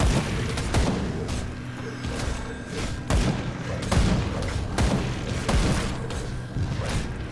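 Gunfire in the video game Grim Dawn comes as a series of dull booming shots and thuds at irregular intervals, moderately loud over a low game background.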